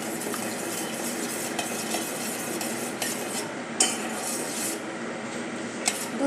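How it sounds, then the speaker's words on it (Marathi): A spoon stirs thickened, reduced milk with a spoonful of sugar in a pan, scraping and clinking against the metal in a continuous near sizzle, with a few sharper clinks, and no one talking. "मिक्स करूया।"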